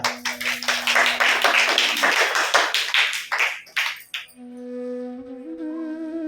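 Audience clapping during a Hindi spiritual discourse: a burst of close, rapid hand claps for about four seconds, then it cuts off and a sustained tonal sound takes over.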